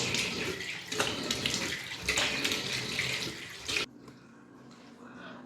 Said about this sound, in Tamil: ஃபேஸ் வாஷ் பண்ணிடுறேன்